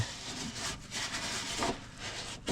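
Greasy oven range hood filter being wiped with a chlorine wipe, a soft steady rubbing and scrubbing at close range, fairly quiet with no talk.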